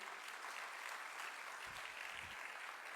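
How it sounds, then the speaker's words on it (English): Audience applause fills a large hall at a morning gathering, a dense steady wash of many hands clapping throughout, with a few low thumps partway through. "Please, can we give another round of applause for Alejandro?"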